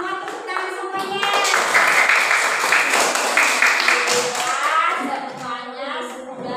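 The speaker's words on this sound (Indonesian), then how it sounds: "tepuk tangan semuanya" Classroom of children clapping together after a Qur'an recitation lesson, a brisk burst of applause swelling for several seconds with kids' voices mixed in, then tapering off as the teacher resumes talking.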